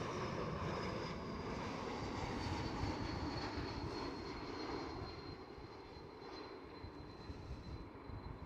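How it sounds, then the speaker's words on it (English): A KLM Cityhopper Embraer E195-E2 jet at Amsterdam Schiphol airport roars steadily with broadband engine noise and a thin high whine, moderately loud and slowly fading, with no talk. "But first again, KLM City Hopper E195 E2."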